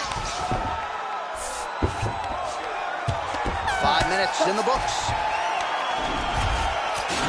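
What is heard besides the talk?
crowd cheering after a round, UFC 4 video game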